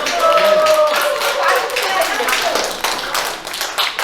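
An audience at a volunteer group's performance in a senior welfare center applauds to welcome a singer, a steady wash of clapping that holds loud and then thins slightly toward the end.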